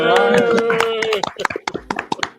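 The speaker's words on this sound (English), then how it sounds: "Everybody clap for Mirage" A few sharp hand claps for Mirage on a late-night boxing talk show follow a voice, sparse and close with brief gaps between them.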